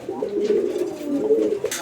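Fancy pigeons in a Bangladeshi collection coo steadily in close, overlapping low burbling calls that run almost continuously, with a brief rustle near the end.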